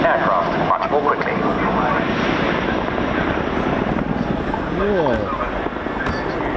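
A military jet performs a display at the RAF Cosford air show, its engine roaring loud and continuous with a sweeping pitch shift as it manoeuvres, under a commentator's voice.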